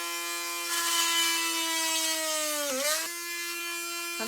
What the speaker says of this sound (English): I'm just gonna drill in through the top